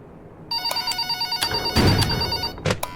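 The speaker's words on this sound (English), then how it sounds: "I'm gonna shut up for the phone call." A telephone rings in a horror video game at night, sounding as a steady, repeating electronic trill with a louder burst in the middle, close and clear with no talk.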